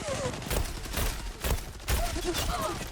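Shotgun blasts in the online shooter Zula, several bursts spaced about a second apart over busy game noise, with a voice talking over the action.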